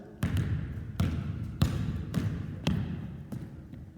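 A basketball dribbled steadily, each bounce a sharp, close thud repeating about every two-thirds of a second, six bounces in a row with no talk.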